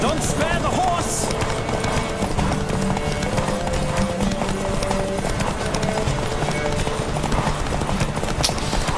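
Horses gallop in The Witcher 3 during a race, with fast, continuous hoofbeats that stay loud and close throughout, while a voice talks over the pounding rhythm.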